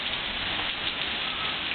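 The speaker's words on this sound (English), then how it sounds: "I don't know if you can see the sheets of rain coming down." Heavy rain pours down during Hurricane Gustav in Picayune, Mississippi, a dense, steady hiss of driving downpour with no pauses and no voices.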